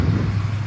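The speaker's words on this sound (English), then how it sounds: "Noisy traffic." Road traffic rumbling steadily on a cold morning during an outdoor dog pack walk, a continuous low, fairly loud drone of passing cars with no talk.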